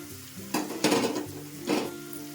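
Green chillies and sliced ginger frying in oil in a pan, a steady close sizzle with several louder bursts of stirring and scraping.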